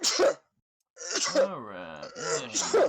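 A single sharp sneeze bursts out near the start, close and loud, followed by a pause and then someone talking and counting during a tabletop game session.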